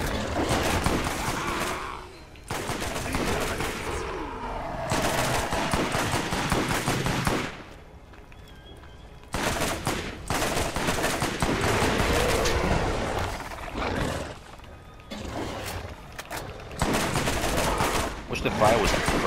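Assault rifle bursts with fire damage in the Borderlands shooter, sustained rapid automatic fire in long loud bursts broken by short pauses, mixed with game effects and occasional speech.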